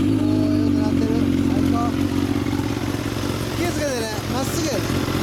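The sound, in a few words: motorcycle engine with titanium exhaust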